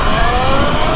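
A Sur Ron electric dirt bike fitted with a KO motor runs at full throttle on an eighth-mile run, giving a loud, steady, close-up whine and rush with no break.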